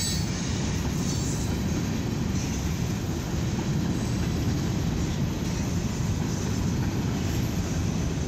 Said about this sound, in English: This is a mixed freight grain train